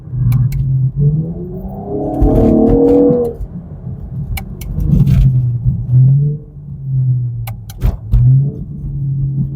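A 2017 Chevrolet Camaro RS with a V6 engine accelerates, its loud, close engine note swelling into a strong rev and then settling back to a steady hum, with a couple of brief clicks along the way.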